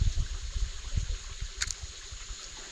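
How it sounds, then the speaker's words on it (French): A soft, steady trickle of a stream runs throughout, with low rumbling gurgles and a brief bright splash near the middle. "avec le doux bruit du ruisseau."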